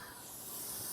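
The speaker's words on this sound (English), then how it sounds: "can you hear my things sizzling?" Chicken sizzling steadily in a hot pan, a continuous broadband hiss and crackle that holds at an even, fairly quiet level throughout with no voices.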